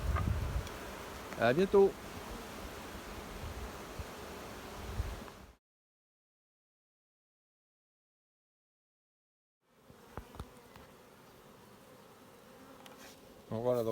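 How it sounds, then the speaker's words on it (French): Honey bees buzz densely around an open hive, close and steady, then cut to silence for several seconds before the buzzing returns; a voice speaks briefly. "on voit qu'il y a beaucoup d'abeilles"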